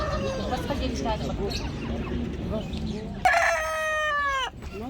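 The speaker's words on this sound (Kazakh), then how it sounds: "мынау не деген тауықтар?" At a busy poultry market, a rooster crows once, loud and close, over a steady babble of voices, clucking hens and crowd noise, with people talking throughout.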